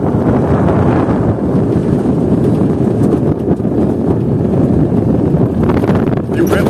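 Strong wind gusting across an open rural roadside in the Brazilian sertão, a loud continuous buffeting roar over the microphone that dominates throughout.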